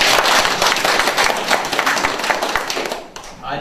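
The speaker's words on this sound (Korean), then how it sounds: "우리 동문님들이 서로 다시 박수 한번 치겠습니다." Alumni at a high school alumni reunion clap together in a dense, steady burst of applause close by, tapering off near the end as a voice begins.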